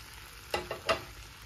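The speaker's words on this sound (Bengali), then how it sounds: "দিয়ে আরও 2-3 মিনিট একটু ভেজে নেব মশলার সঙ্গে ফুলকপি, আলু, শিম। দিয়ে দিলাম ফুলকপি" Cauliflower, potato and flat beans fry in spiced oil with a steady low sizzle, broken by three quick scraping stirs close by, with no talking.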